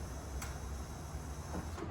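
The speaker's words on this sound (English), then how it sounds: "let's keep priming that fuel pump" A Jaguar XJS fuel pump primes with a steady electric whirring hum, fairly quiet and continuous, with a couple of faint clicks.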